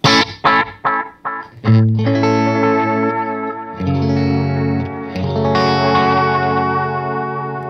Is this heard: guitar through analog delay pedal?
yes